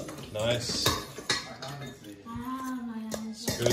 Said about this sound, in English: So just keep mixing up.